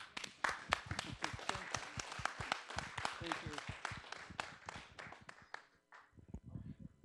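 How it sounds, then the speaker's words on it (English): Audience at a Caltrans Pacific Coast Highway master plan public workshop gives a round of applause, a dense burst of clapping lasting about six seconds before fading, followed by a low murmur and handling noise. "can we please give Ryan a round of applause?"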